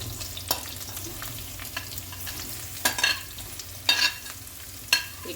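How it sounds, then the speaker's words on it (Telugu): Onions frying in a pan for an onion roti pachadi chutney, a low continuous sizzle broken by scraping stirs and a few sharper clinks of the spatula. "కొంచెం ఫ్రై అయిన తర్వాత మనం ఉల్లిపాయలు వేసేసుకుంటాం."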